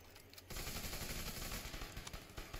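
Gunfire in The Division 2, a burst of rapid shots starting abruptly and holding as a loud, dense continuous volley for a couple of seconds.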